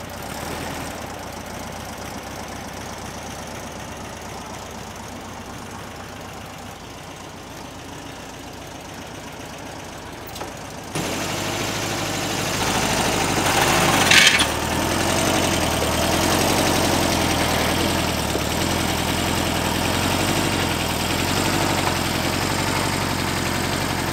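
A 1964 Volkswagen Beetle engine idles steadily while the car is being loaded, a constant low mechanical drone that grows louder and fuller about halfway through, with a brief knock partway in.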